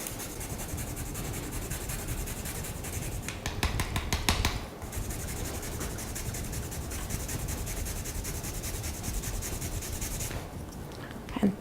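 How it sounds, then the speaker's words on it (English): Fresh ginger rubbed across a grater into a pan with brown sugar, a steady close scratching rasp continuing throughout with a brief louder patch of strokes partway through. "grate a little fresh ginger into it"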